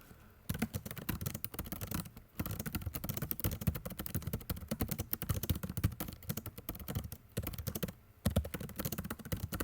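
Rapid typing on a computer keyboard, a fast clatter of keystrokes with a few brief pauses, close and fairly loud.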